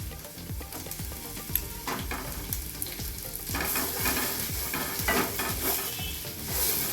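Finely chopped onion with raw ginger sizzles steadily in a hot pan while it is stirred, with repeated scraping strokes of a spoon over a constant crackling hiss and no voices.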